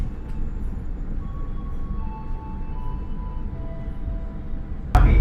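A Kaligung passenger train runs along the rails in Indonesia, heard as a steady low rumble with faint tonal whines and a sudden louder thump near the end.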